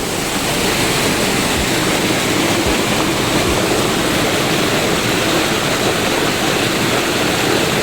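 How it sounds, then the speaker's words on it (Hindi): Fast-flowing, ice-cold Yamuna river water near Yamunotri in the Himalayas, heard as a loud, steady, unbroken rushing roar close by, with no voices. "पानी की रफ्तार काफ़ी तेज़ है, मतलब माँ यमुना जी की"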